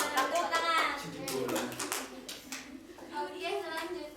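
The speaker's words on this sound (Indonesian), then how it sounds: "Tepuk tangan" Students in a sociology microteaching class clap their hands, lively and uneven, mixed with children's voices chattering over the clapping.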